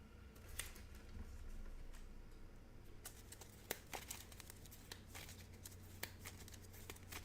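Playing cards riffled and shuffled during a Cards of Cthulhu tabletop game, with repeated sharp papery bursts and clicks over a steady low room hum, close and fairly quiet.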